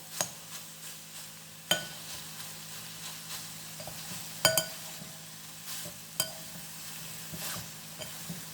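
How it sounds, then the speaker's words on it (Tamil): Soya chunks frying in a pan with a steady low sizzle, broken by scattered clinks and scrapes of a spoon stirring against the metal, heard close with no talking. "ஒரு 5 மினிட்ஸ் வறுக்கணுங்க. இது திருப்பி விட்டால் நல்லாயிருக்கும்."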